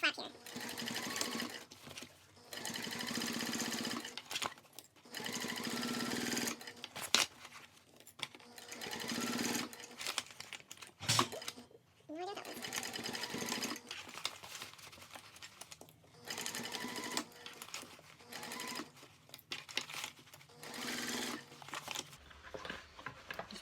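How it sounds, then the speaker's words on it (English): A sewing machine stitches cork fabric in steady rattling bursts, stopping and starting while backstitching over a clutch flap, with a person talking quietly over the stitching. "To backstitch really well when I'm sewing over my flap here."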